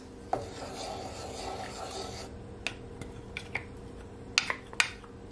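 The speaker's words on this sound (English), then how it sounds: "I'm gonna add that honey you want to mix it all in" Honey is stirred into chicken thighs in a pan, giving a rough rasping, rubbing scrape for about two seconds, followed by scattered sharp clicks and scrapes of a utensil against the pan.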